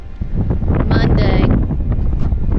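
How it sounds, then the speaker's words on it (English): Strong wind at a marina in Aruba roars and buffets loudly against the microphone without letup, with a muffled voice partly audible underneath. "It's very windy."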